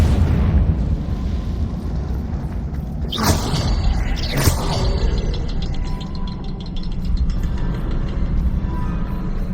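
Confringo fire curse blasts in Hogwarts Legacy, two sharp explosive bursts midway, each a loud crackling boom rising over a steady droning game ambience, with no voices.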